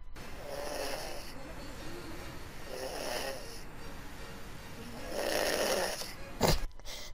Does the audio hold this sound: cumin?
no